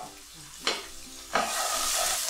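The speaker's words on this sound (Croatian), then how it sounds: "Uz miješanje luk kratko popržimo" Finely chopped onion fries in a little oil in a heated pan, with two sharp scraping stirs followed by a steady close sizzle that grows louder.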